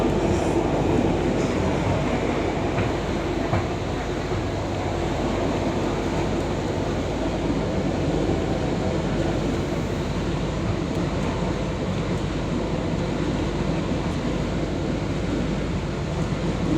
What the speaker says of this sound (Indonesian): Saat lagi kereta api bandara akan tiba di stasiun Gawok